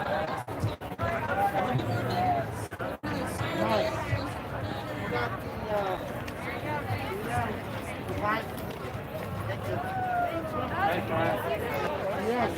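Crowd chatter at a rally on the grounds of the Colorado State Capitol: a steady babble of many voices blending together at a close-to-mid distance, continuous for the whole stretch with no single speaker standing out.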